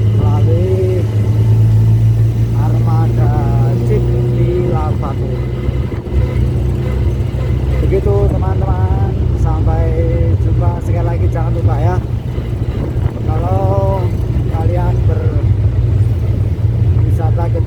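Jeep engine droning steadily on a Merapi lava tour, a loud continuous low rumble with occasional revving, while people talk over it throughout.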